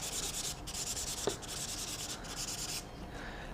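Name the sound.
sanding with a fine sanding stick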